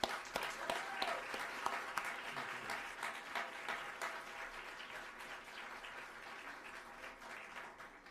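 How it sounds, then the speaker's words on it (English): An audience applauds after a color guard is dismissed at a Louisville America 250 kickoff event, a steady wash of many hands clapping, fairly distant and even, continuing throughout without voices. "Let's give them a round of applause."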